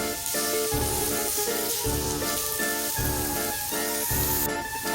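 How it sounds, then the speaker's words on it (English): Onion sautés in olive oil in a pan, a continuous close sizzle that sits partly under steady rhythmic background music. "we're going to let that saute for 2 minutes"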